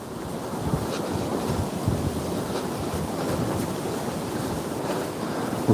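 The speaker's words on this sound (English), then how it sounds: "it's far too windy" Strong wind buffets the microphone outdoors in Berwick, a steady, loud roaring rush with gusty rumble that continues unbroken throughout, with no voices.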